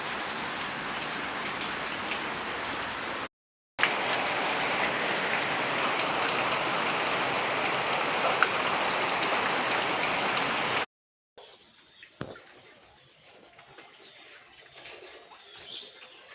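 Running water splashes steadily while dishes are washed, a loud even rush that stops briefly, resumes, then gives way to quieter clinks and trickles near the end.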